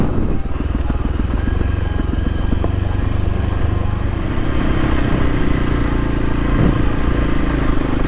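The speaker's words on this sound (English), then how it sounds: "Engine braking with a little bit of extra braking on top." Motorcycle engine braking while ridden slowly downhill on an off-road track, a close, continuous low rumble with faint clatter and wind buffeting, no talk.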